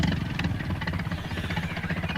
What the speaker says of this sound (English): Alf was out on his tractor.